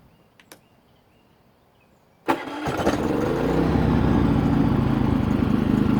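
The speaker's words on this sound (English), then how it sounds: "now I'm going to start it up, and you're going to hear it surging and missing a little bit" Quiet at first with a couple of faint clicks, then a Harbor Freight 3500W inverter generator cranks and catches, settling into a steady running drone.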